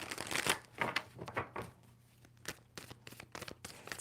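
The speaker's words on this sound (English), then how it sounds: "2 more shuffles for Libra." A deck of tarot cards is shuffled by hand, giving a series of quick, close papery riffles and flicks in uneven bursts, with no voices.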